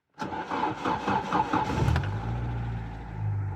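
A car engine cranks briefly with the starter, then catches and settles into a steady, loud idle as it warms up, close by with no talking.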